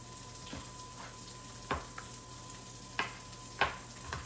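Bacon sizzles and crackles steadily in a frying pan in a home kitchen, a constant quiet hiss broken by occasional sharp pops and spatters.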